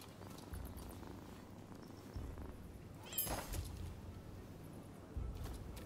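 Cat purring in Rise of the Ronin, a soft continuous rumbling purr close by with a brief brighter meow-like burst in the middle.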